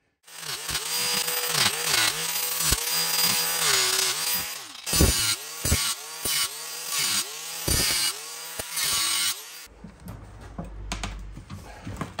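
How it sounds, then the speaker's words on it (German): An angle grinder whines steadily against metal, slitting a stuck trike axle part, its pitch dipping and rising in repeated cuts, ending with a rattling wind-down and low rumble. "Flex nochmal ansetzen, überall nochmal schlitzen"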